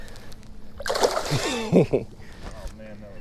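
A largemouth bass released back into Lake Okeechobee splashes and sloshes in the water in a short, close burst, followed by lighter dripping, with someone talking around it.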